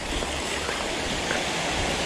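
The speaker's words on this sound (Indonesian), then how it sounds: "Di perairan deras ini" Swift water rushes through a fast-flowing river spot in Kediri, a dense, steady hiss and roar heard close and unbroken, with no voices.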